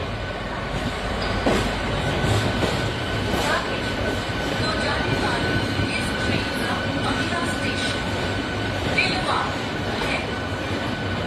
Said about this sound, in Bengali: হাওড়া জামালপুর ট্রেনটা হাওড়ায় প্রবেশ করছে